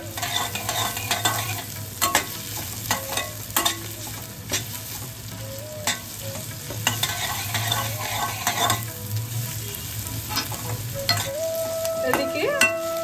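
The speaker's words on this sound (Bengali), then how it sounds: "এদিকে আদা রসুন আর পেঁয়াজটা যেই কষানো হয়ে আসবে" Onion with ginger and garlic paste fries in a pan for a banana stem dal, giving a steady close sizzle broken by repeated scrapes and clinks of a spoon stirring, with no voices.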